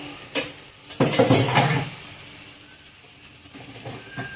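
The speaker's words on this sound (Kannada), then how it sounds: "ನುಗ್ಗೆ ಸೊಪ್ಪಿನ ಪಲ್ಯ ಇದು ಚೆನ್ನಾಗಿ ಫ್ರೈ ಆಗಲಿ" Drumstick leaves stir-fry (nugge soppu palya) is moved around a metal pan, giving a few clattering scrapes and a short burst of frying before a quieter stretch with faint sizzling.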